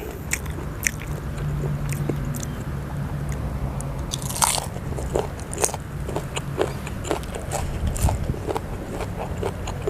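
Crunchy pork rinds eaten with a spicy chili dip, loud close crisp bites and chewing crunches repeating irregularly throughout, with no talking.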